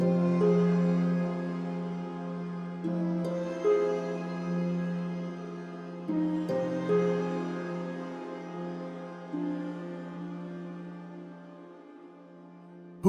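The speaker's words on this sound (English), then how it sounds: "Now let's listen to dulcimer leather rolls layered with the harp." Dulcimer struck with leather-wrapped mallets in sustained rolls, layered with harp, from Audiobro's Scoring Colors library. Soft shimmering tones with a few fresh plucked entries swell and fade at moderate volume, with no talking.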